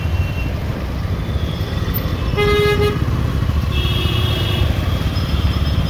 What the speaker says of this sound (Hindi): अच्छा खासा ट्रैफिक है अभी